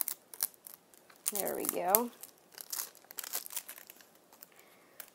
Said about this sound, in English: let's open up these cards